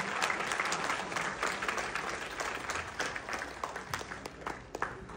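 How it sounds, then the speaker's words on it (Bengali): An audience at a Bangladeshi award ceremony honouring successful children applauds for the fathers, a full sustained round of clapping from a crowded hall that gradually thins toward the end, with faint voices underneath. "সন্তান ও মাদের অনুরোধ করব বাবাদের জন্য একটি করতালি দেওয়ার জন্য"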